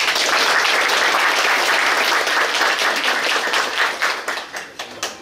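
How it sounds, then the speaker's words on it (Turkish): A crowd at a community gathering of people from Kahramanmaraş in Kemer applauds steadily and densely, then thins into scattered individual claps toward the end. "Kendisine veriyorum, alkışlıyoruz"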